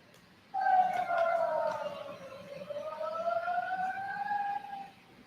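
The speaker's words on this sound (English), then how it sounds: "Sirens sound in the city." A city siren wails in one long rising and falling tone, starting abruptly and sustaining for several seconds before cutting off, heard at a distance over faint background noise.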